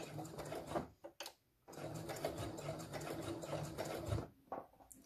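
A sewing machine stitches fabric edge to edge while making a fabric tart-carrying bag, running steadily with a brief pause near the middle and a short stop near the end.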